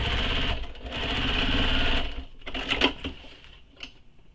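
A sewing machine stitches through thick backpack fabric in quick mechanical bursts, a steady run of stitches followed by shorter stop-start pulses, close and fairly quiet.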